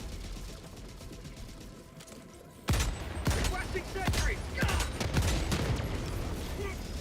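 Helldivers 2 gunfire bursts out after a quieter stretch, a run of sharp, closely spaced shots with mechanical clatter, loud and near, continuing in irregular volleys under faint talk.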